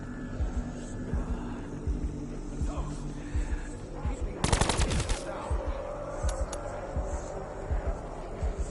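A burst of rapid SMG fire in Call of Duty Black Ops 4 Zombies rattles out loudly for under a second, set against a busy game soundscape with a voice talking nearby.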